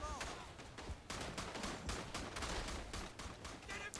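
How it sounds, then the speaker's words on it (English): Rapid bursts of machine gun fire crackle loudly and continuously in the First World War shooter Verdun, mixed with other gunshots and a battlefield din, with occasional voices underneath. "Keep firing, machine gunner."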